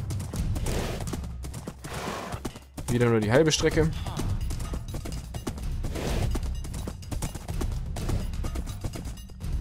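Rhythmic hoofbeats clip-clop steadily beneath someone talking in German, with a brief horse whinny partway through, in Minecraft.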